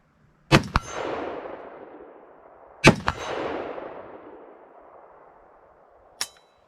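Two loud gunshots from a Foxtrot Mike .223 Wylde rifle, spaced a few seconds apart, each ringing out in a long reverberant tail across an outdoor range, followed by a sharp metallic clank.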